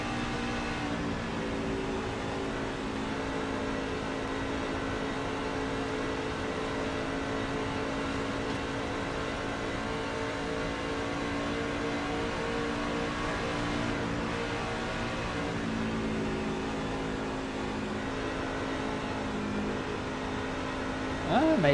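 Race trucks howl at full throttle around Las Vegas Motor Speedway in a truck series race, a sustained droning engine roar heard from a distance, steady with slight pitch shifts.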